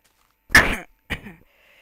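Two distinct coughs from a French-speaking Minecraft player, close to the microphone, the first louder and longer, the second shorter, separated by a brief pause in otherwise quiet surroundings.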